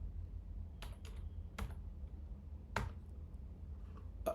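A few sparse clicks of typing on a computer keyboard, about five separate keystrokes heard close and quiet over a faint low hum, with no talk.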